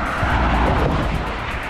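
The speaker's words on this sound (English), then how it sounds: "oh, car coming" A car approaching and rushing past on a road, heard close by from a runner's viewpoint as a loud, broad whoosh of tyre and engine noise that swells and eases over under two seconds.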